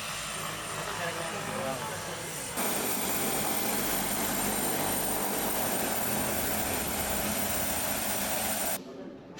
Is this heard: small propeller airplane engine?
yes